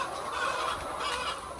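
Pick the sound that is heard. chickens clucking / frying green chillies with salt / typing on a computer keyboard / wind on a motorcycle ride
chickens clucking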